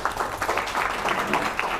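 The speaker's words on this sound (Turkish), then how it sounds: "Kırgızistan'a alkış yapıyoruz" An audience at a Turkic World cultural event applauds for Kyrgyzstan, a short stretch of moderate clapping with some crowd murmur.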